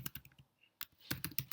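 Fast bursts of typing on a computer keyboard while entering a web address into a browser, clustered clicks near the mic with a short gap in the middle, no talking.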